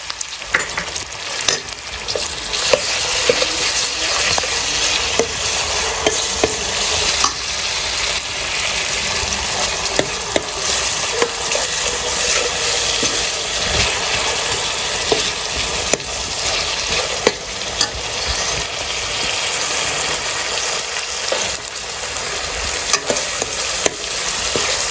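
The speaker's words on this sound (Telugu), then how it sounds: "జింజర్ గార్లిక్ పేస్ట్ వేగిన తర్వాత" Ginger garlic paste sizzles and fries in a pan for a masala pulusu, a loud, steady crackling hiss with frequent stirring scrapes throughout, no talking.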